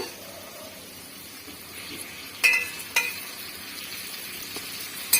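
Ingredients for a biryani kurma curry with potatoes fry in a pan, a soft steady sizzle with a few sharp spoon clinks and scrapes against the metal midway and at the end.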